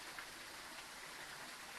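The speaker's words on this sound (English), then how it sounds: "It sounds like heavy rain" Heavy rain in the horror video game Phasmophobia, a steady, hissing wash of falling water with no pauses, very faint and distant, without voices.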